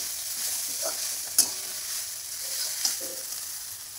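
Batata poha stirred in a frying pan gives a soft, steady sizzle, with a couple of sharper scrapes and clinks from the spoon, quiet and close with no talking.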